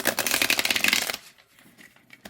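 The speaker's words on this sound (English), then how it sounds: "I'm going to shuffle them all as one just so we can get a feel for that." A deck of cards from a fun-art oracle deck is riffle-shuffled as one pile: a dense, close rattle of fluttering cards for about a second, then quiet with a few faint soft taps and a final small slap.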